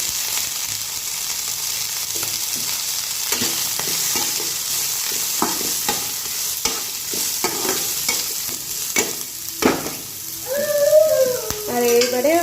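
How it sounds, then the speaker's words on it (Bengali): Green beans and capsicum fry in a pan with a steady, close sizzle, broken by frequent scrapes and taps of a stirring spoon; a few tonal, voice-like sounds rise near the end. "এবার আমি বিনসটা দিয়ে দিলাম তো এরপরে পরপর আর যে ক্যাপসিকাম আছে সেইগুলো দিয়ে দেব ক্যাপসিকামগুলো দিয়ে দিচ্ছি"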